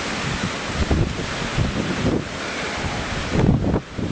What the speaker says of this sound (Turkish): Bodrum'da sabah saatlerinde başlayan kuvvetli rüzgar